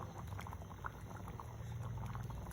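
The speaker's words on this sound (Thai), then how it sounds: "ตั้งให้เดือดได้ดีนะคะ" Thai catfish curry boiling in a pot gives a continuous, soft bubbling and popping at close range, steady and fairly quiet throughout, with no speech.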